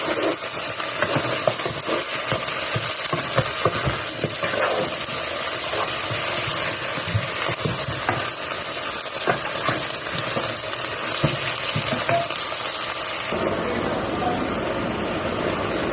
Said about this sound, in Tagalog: Haluin lang po natin ulit.